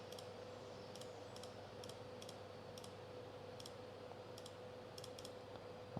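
A computer mouse clicks sharply about a dozen times in an irregular rhythm, selecting questions in a flight exam simulator program, faint against a steady low electrical hum.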